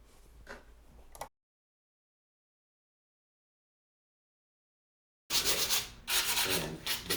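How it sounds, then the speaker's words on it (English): Close, scratchy hand sanding of a wooden plant stand in tight spots, rubbing back and forth in short strokes, broken by a long silent gap before louder, faster rubbing resumes. "I did hand sanding in tight spots that I could not reach"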